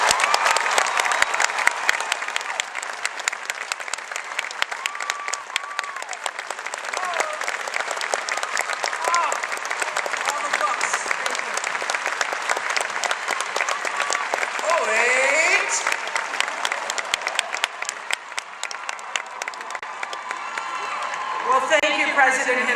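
A large commencement audience at Stanford gives Oprah Winfrey long, sustained applause, dense and steady for over twenty seconds with faint cheers rising through it, swelling slightly near the end.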